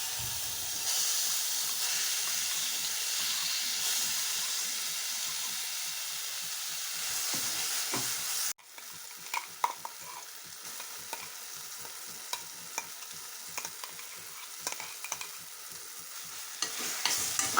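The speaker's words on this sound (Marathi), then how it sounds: "कढाईमध्ये मी थोडे 1 चम्मच तूप टाकून घेणार आहे आणि आपलं कवठाची पेस्ट ही त्या तुपामध्ये थोडा वेळ शिजवून घेणार" Wood apple paste cooks in a spoonful of ghee in a kadhai, giving a soft, continuous sizzle and hiss with light scraping of stirring, briefly dropping quieter midway before resuming.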